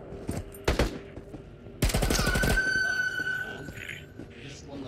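Heavy machine gun fire from a BTR armored vehicle in the Into The Radius VR game: a few separate shots, then a fast loud burst, followed by squealing ringing tones and softer ambient noise.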